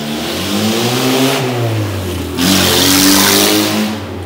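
A car engine revs up and rises in pitch as it passes close by on a city street in St. Petersburg, loud with a second surge of acceleration midway.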